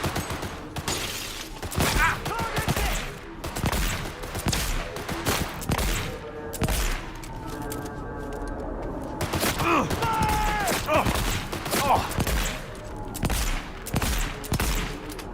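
Gunfire in Cyberpunk 2077, rendered in 4K with RTX Overdrive: repeated sharp shots in uneven bursts across the whole stretch, loud and close, with someone talking now and then between the shots.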